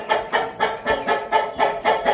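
A hen with her chick, loud close rhythmic clucking in evenly spaced bursts, roughly four per second, with no voices.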